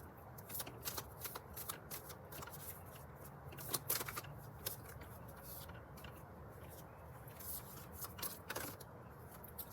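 A tarot card deck being shuffled in a steady run of crisp riffling and slapping card sounds, close and fairly quiet, with no voice over it.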